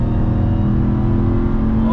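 Deep, steady engine roar of a 2021 Ram TRX truck accelerating hard, loud and continuous from inside the cabin, with someone talking over it.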